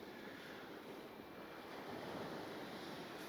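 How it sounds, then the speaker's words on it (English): Steady wash of sea swell breaking against a harbour wall on the Isle of Wight, continuous and broad, with wind noise over the microphone and a slight swell in loudness toward the end. "you can hear there's swell starting to hit the bottom of the wall"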